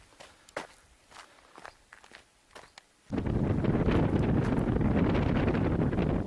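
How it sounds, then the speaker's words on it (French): Footsteps crunch at a steady pace for a few seconds on a trail run at Arnao, then a sudden loud gust of wind roars against the microphone and keeps blowing. "C'est dingue ici le vent qu'il y a."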